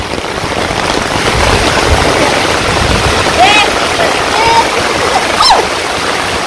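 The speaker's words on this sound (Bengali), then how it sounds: "এত বাতাস ছাড়ছে, বাবারে বাবারে বৃষ্টি রে।" Heavy rain pours steadily in a village, a dense continuous hiss and patter with gusty wind, while a few faint bird calls cut through the downpour.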